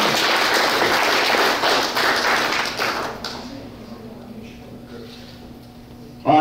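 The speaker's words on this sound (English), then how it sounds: "Let's give him a great round of applause" A room full of people clapping at a Veterans Day award ceremony, loud at first, then the applause thins out and fades away after a few seconds.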